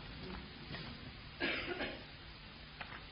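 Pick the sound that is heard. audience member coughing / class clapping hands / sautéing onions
audience member coughing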